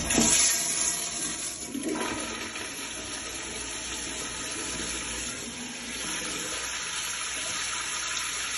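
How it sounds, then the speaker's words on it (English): A Sloan flush valve toilet flushes after its valve cap is adjusted, giving a loud rushing surge of water that settles into a steady hiss of refilling, with no talking over it. "slightly turn it to the left until I'm happy with the flush"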